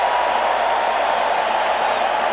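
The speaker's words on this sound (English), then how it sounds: "He got a great ovation from the crowd here, and there you hear it again." Stadium crowd at a Manchester United versus Juventus Champions League match in 2003 giving Pele an ovation, a dense, sustained roar of cheering and applause from a distance, steady and loud throughout.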